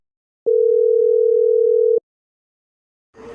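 A single steady electronic phone tone sounds for about a second and a half, loud and alone, followed by silence and then a brief burst of noise at the end.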